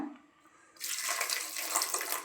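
Water pours in a steady, close stream after a brief quiet moment, filling a pan holding flour and jaggery with a bright rushing sound.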